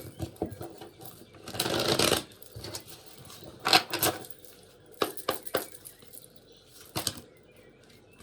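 A deck of oracle cards is shuffled nearby in a quiet room, producing several short, soft riffling and flapping bursts separated by pauses.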